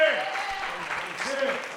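Audience applauding at a storytelling evening, a steady bed of clapping at moderate level with a voice speaking over it.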